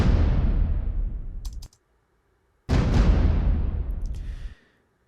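Two big layered orchestral drum hits from a percussion library, offset so they swell like an army of drums, each boom decaying over a second or more before silence.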